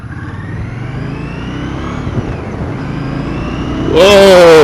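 A 2017 Victory Octane motorcycle on a test ride, its engine note climbing steadily under acceleration and then surging loudly at the end, with a rider talking over it.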